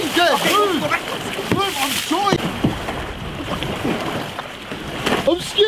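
A Minecraft boat splashes and sloshes through water at close range in a steady churning wash, while people talk excitedly over it.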